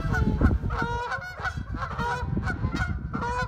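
Canada geese honk repeatedly and loudly, several birds calling over one another in a steady, raucous chorus.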